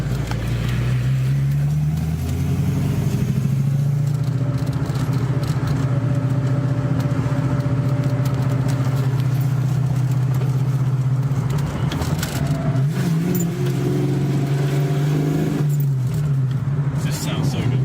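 A car engine with a short shifter and possible shift kit idles with a steady low rumble, then revs up and settles back, while people talk over it nearby.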